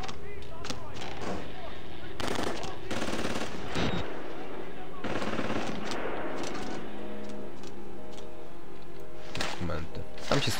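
Bursts of gunfire from the horror game Outlast: Whistleblower, with loud volleys of rapid shots separated by quieter stretches as someone talks over them.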